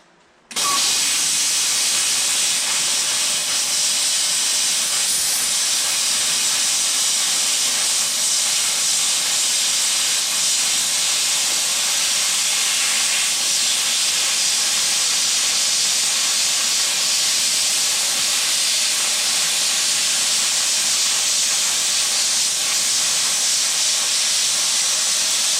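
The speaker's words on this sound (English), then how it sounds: "it'll need dressed up with the grinder a little bit" An angle grinder dresses up the welds on the corners of a welding table: a loud, steady, hissing whine that starts abruptly and carries on unbroken for the full stretch, with no voices.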